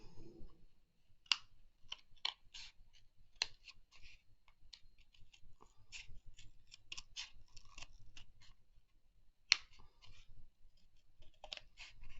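Scissors snip through cardboard in a quiet, close series of crisp irregular clicks and crunches, with short pauses between cuts.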